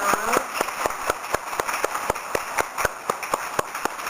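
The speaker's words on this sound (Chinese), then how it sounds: "我们掌声来欢迎林校长" An audience at an education conference claps in a steady rhythm to welcome a speaker, with sharp, evenly spaced claps that carry clearly through the hall.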